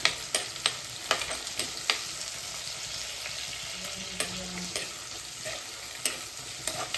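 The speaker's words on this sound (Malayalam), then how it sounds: "എണ്ണയിലൊന്ന് രണ്ട് തക്കാളിയും ചെറുതായിട്ടൊന്ന് വാടണം" Tomatoes sautéing in oil with green chillies, a constant hiss of frying broken by sharp intermittent spoon clicks and scrapes against the pan, close and steady with no speech.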